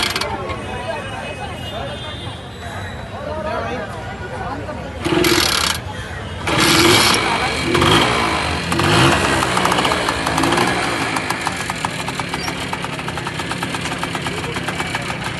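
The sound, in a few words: 50cc vintage moped engine starting and running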